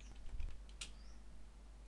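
Quick taps on a computer keyboard during a Fedora Linux command-line session, a short irregular burst of close, soft clicks in a quiet room.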